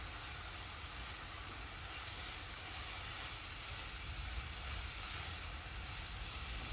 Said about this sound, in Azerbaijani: Artıq hardasa 3-4 dəqiqədir soğanımız qovrulur